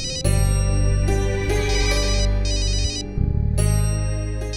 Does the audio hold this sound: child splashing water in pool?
no